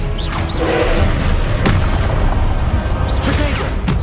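Spell blasts from Hogwarts Legacy gameplay: dense, loud booming impacts and crackling bursts over a constant roar of battle noise, with whooshing spell sweeps, a voice calling out spells mixed in.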